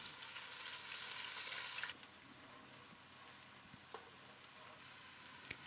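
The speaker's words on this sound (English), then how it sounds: "add the onion paste into it, followed by the ginger garlic paste. Fry them for 2 to 3 minutes." Onion paste and ginger garlic paste frying in hot oil in a pot give off a soft, steady sizzle, louder at first and then quieter, with a few small pops and clinks.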